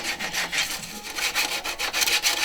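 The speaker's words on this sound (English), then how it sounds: "then they say you sand it this way" Sandpaper is rubbed by hand across a surface in quick, repeated back-and-forth strokes, giving a steady close-up rasping scrape with no pauses and no speech.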